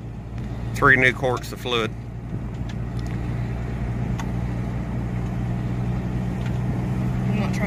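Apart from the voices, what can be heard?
1991 Plymouth Laser RS car driving down the road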